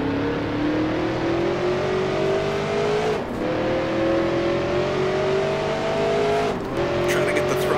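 NASCAR Grand National race cars from 1966 roar in a racing video game, engines droning steadily with rising pitch as they accelerate, close and loud throughout with brief dips around gear changes and another car right on the bumper.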